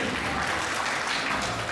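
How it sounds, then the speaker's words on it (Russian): Applause from an audience at a first-birthday celebration, a dense, steady wash of clapping filling the short moment with no talk over it. "ваши бурные аплодисменты"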